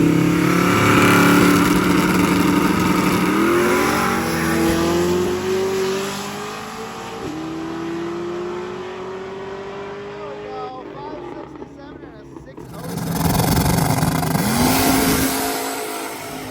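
A yellow Nova and a purple Cadillac drag racing at a street-car event, engines roaring hard as they rev through several gear changes, fading away, then a fresh loud surge of engine noise; a voice talks underneath.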